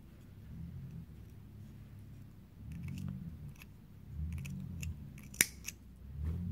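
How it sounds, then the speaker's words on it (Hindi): Scissors snip the loose thread ends of a crocheted beaded layer necklace, a few short crisp clicks near the end over a soft low room rumble. "you have to cut the loose ends."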